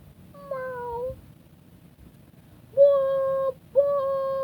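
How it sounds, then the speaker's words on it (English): Three drawn-out, tonal meows from SpongeBob's cartoon pet snail, one short call followed after a pause by two longer ones in quick succession, clear and close over a faint low background. "Meow."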